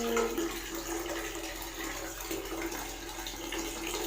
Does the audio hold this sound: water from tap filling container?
yes